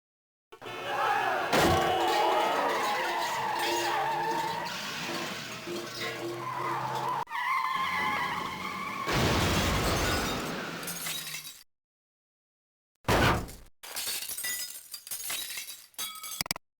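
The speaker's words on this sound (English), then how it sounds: "As the car barrels onto a side street, Spider-Man grabs the wheel and pulls hard, swerving to avoid endangering pedestrians." A swerving car in the Spider-Man interactive CD-ROM comic book game skids with long screeching and crashes amid bursts of shattering glass, loud and close, then falls silent before a few more clattering, glassy impacts.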